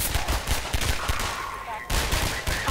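Half-Life 2 gunfire rattles in rapid, loud, close bursts of automatic fire with brief gaps.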